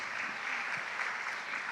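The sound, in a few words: audience applause for judges at robotics championship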